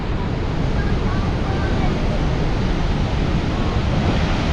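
Niagara Falls roars as a dense, unbroken rush of water, loud and steady throughout, with wind buffeting the microphone.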